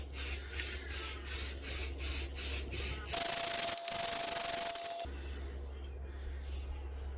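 Spray paint hissing onto a car roof for a final coat, a long continuous aerosol hiss in the middle after a run of short rhythmic rubbing strokes, close and fairly quiet.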